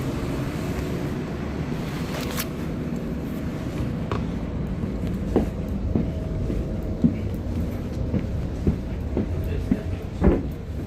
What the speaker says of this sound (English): I think I should get in the train before it decides to leave before time.